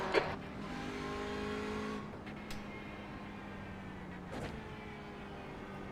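Audi TCR touring car engine in the iRacing simulator at VIR: a steady, close droning engine note with sustained harmonics that dips after a shift, a couple of brief clicks, and a lower, calmer hum afterward.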